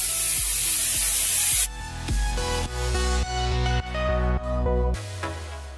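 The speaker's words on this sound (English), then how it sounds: "Now I'm gonna go ham with my oil sheen to give it more shine." A spray can of oil sheen hisses loudly for a second and a half onto relaxed hair, then gives way to music with a steady beat.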